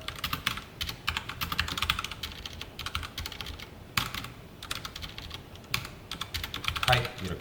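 SQL being typed on a computer keyboard, close rapid clicking keystrokes in steady runs with brief pauses and occasional louder taps, with quiet talking faintly in the background.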